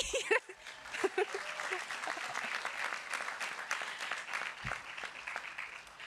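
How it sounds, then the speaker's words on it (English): Graduates clapping at a university undergraduate commencement, a broad wash of applause from a large crowd with a few brief voices and chuckles at the start, fairly distant in a big venue. "Give yourself a round of applause, okay?"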